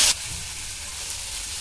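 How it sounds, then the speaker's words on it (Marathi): Dry coconut frying in a pan for spicy Kolhapuri kat vada masala gives a steady, close sizzle and hiss, opening with a brief sharp burst. "आपण खोबरं 1 मिनिट फ्राय करून घेतलेलं आहे."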